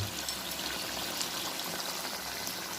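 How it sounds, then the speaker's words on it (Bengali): Water is poured into a pot of duck meat curry, a steady, close, even rush of liquid lasting the whole moment with no talking. "তো মাংসতে জল দিয়ে দিলাম"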